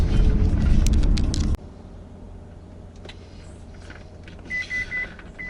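A taxi-hailing app on a driver's phone in Odesa gives a short series of repeated electronic notification beeps, three quick tones near the end over quiet car-interior hum, following a louder burst of noise at the start.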